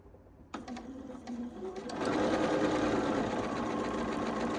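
A sewing machine stitches quilt squares for an Irish Chain quilt, starting after a brief pause with a few short bursts, then settling into a steady, loud, continuous run close by.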